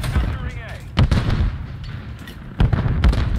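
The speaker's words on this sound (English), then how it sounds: "I hit one with the nade." A grenade detonates in a ranked online shooter match, giving two sharp, loud explosive bursts about a second and a half apart over a steady rumble of game noise, while players talk.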